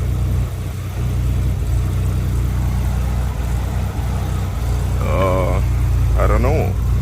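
A BMW E38 750iL V12 idling steadily, a low even hum that stays close and fairly quiet, with a couple of brief squeaky mechanical chirps near the end.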